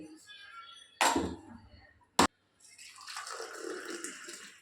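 Coffee with milk poured back and forth between vessels to cool it, a short splashing pour, a sharp clink, then a longer stream of liquid after a pause, close and moderate.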